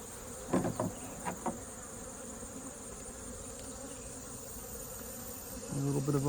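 Honeybees buzz around a hive frame during a colony rebuild, a steady insect hum with a few brief louder passes nearby and some light handling sounds.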